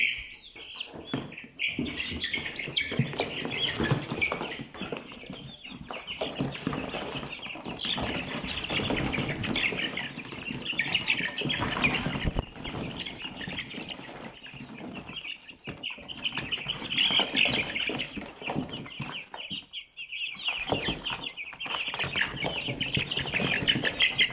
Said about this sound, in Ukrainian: І зараз я достану курку і подивитися, яка курка.